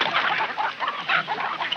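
Hens clucking inside a hen house, a dense, busy chorus of overlapping clucks that carries on steadily with no voices.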